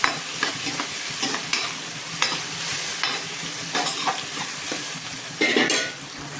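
Onions fry with turmeric in a pan, sizzling steadily while a spatula scrapes and knocks against the pan in irregular strokes, close and fairly loud.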